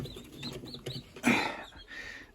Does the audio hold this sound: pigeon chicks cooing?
yes